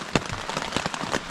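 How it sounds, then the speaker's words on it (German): Rain falls on the Appalachian Trail as a dense, steady patter, with a few sharper drop impacts standing out against the continuous wash. "es regnet halt jetzt vor sich hin"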